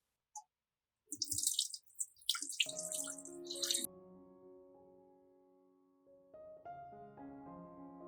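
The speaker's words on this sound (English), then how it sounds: "Rinse it with warm water to clean it." A blender is rinsed under a warm running tap: short splashes and bursts of water come first, then a sustained, faint pouring tone as the jar fills, with no talk.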